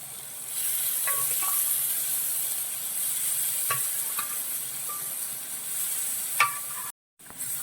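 Cooked dal goes spoon by spoon into a gravy for Pakistani dal fry, a steady soft sizzle broken by a few light spoon taps and clinks, with a brief dropout near the end.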